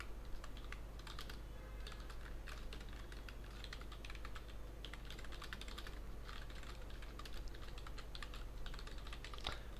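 Steady, brisk typing on a computer keyboard as PHP code is entered, light clustered key clicks in uneven bursts over a low constant hum, close and fairly quiet.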